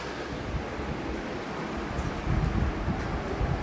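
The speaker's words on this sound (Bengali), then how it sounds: "ভালো জোরে বৃষ্টি হচ্ছে" Heavy rain pours down after a spell of wind and lightning, a steady dense roar that swells slightly louder toward the end, with no voices.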